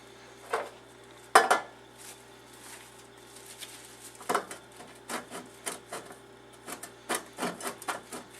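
Parmesan Reggiano cheese scraped across a kitchen grater: quiet, scratchy strokes, one sharp clack, then a quicker run of rhythmic rasping passes toward the end.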